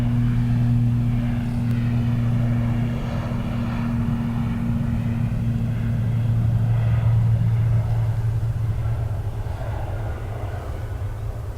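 ATR turboprop airliner at Dublin Airport giving a steady, loud propeller and engine drone with strong low tonal hum throughout, holding close and constant with no talk.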